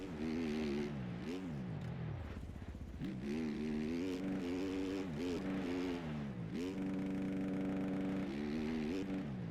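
A dirt bike engine in the video game MX Bikes revs and shifts steadily for several seconds, its buzzing pitch rising and falling with throttle changes. The sound is loud and continuous, with no speech.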